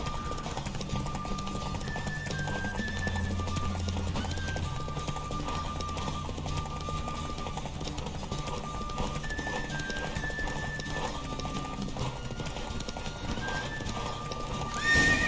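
A horse gallops in a race in The Witcher 3 video game, rapid rhythmic hoofbeats drumming steadily for the whole stretch under a game music bed, with occasional whinnies and faint voices mixed in.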